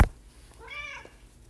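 A house cat lets out a single loud, drawn-out meow close by, rising then falling over about half a second, with quiet room tone before and after.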